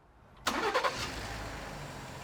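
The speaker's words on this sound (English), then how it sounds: "That starter took 400 amps to start the car." An old-school 12-volt car engine is cranked and fires: a sudden roar as the starter turns it over, a few quick surges, then a steady idle that settles in a garage.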